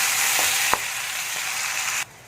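Ginger and tomato paste fries in hot oil, a loud steady sizzle with a few soft stirring knocks, dropping out briefly before a last scrape.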